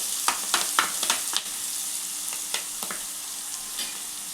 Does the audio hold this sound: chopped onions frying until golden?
yes